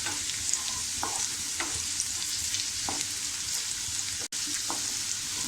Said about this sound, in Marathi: हे व्यवस्थित आपण एकदम छान परतून घेऊया।